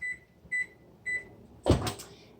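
Three short electronic oven beeps come at even intervals. A sharp metallic clunk follows as a baking tray of cloud bread is pushed into the oven, with a brief rattle after it. The sounds are close by and no one speaks.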